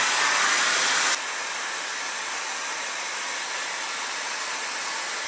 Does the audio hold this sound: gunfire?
no